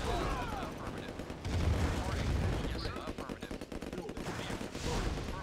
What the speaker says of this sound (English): Explodey! That's a lot of V2 rockets.